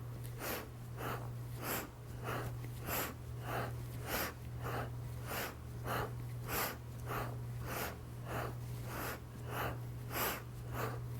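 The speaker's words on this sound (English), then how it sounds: "We'll inhale right and exhale left." Alternate nostril yoga breathing, steady rhythmic inhales and exhales through the nose repeating roughly every half second, close and soft over a low constant hum.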